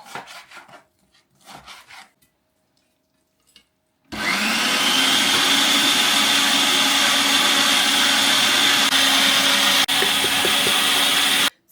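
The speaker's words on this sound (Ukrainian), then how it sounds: "пропустимо одночасно рибку, цибулю, часник. Все через м'ясорубочку." After a few quiet scrapes and knocks, an electric meat grinder starts up and runs with a loud, steady whirring grind, mincing fish, onion and garlic without pause.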